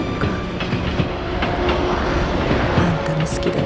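A train rumbles past with steady rail clatter and clicking wheels, holding an even, fairly loud level throughout with no voices.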